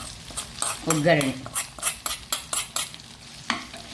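Spicy chicken pickle frying in a pan, with a steady run of rhythmic stirring and scraping strokes over a soft sizzle and a brief murmur of voice near the start.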